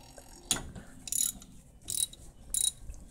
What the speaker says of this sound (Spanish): Tenés que aflojarlo. Entonces aflojás